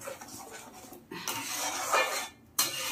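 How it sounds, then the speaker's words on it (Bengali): Mango pulp and sugar being stirred in a pan for homemade aamsotto, a steady scraping and clinking of a spoon against the metal with short pauses, close and fairly quiet, no talking. "এবার আমি এটাকে অনবরত নাড়ব,"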